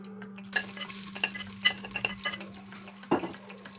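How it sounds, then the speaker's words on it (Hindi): Garlic frying in hot oil in a pot, cooking saag, with a steady low sizzle beneath repeated clinks and scrapes of a spoon stirring against the metal pot, close and alone. "ऑयल को थोड़ा सा गर्म होने देंगे, फिर उसके बाद हम इसमें लहसुन ऐड कर लेंगे"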